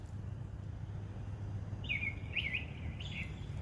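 A lone bird sings at night, a few short high chirps and trills arriving after a quiet start, set against a steady low hum of insects or distant background noise.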